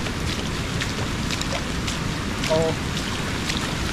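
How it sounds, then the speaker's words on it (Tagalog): Heavy rain falls near a river as a dense, steady roar that fills the whole stretch. A voice briefly exclaims over it. "Ayan na naman ang ulan, malakas."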